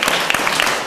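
Audience applause at a school talk on character and culture, a dense, steady patter of many hands clapping for about a second.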